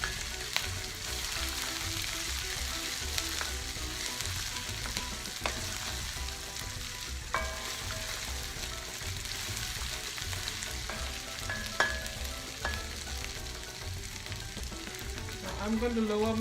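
Masala spices cooking in oil in a pan, a steady close sizzle with occasional stirring clinks, moderately loud and continuous, no talk.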